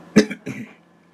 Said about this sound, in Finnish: Ei vittu tätä yskittämistä.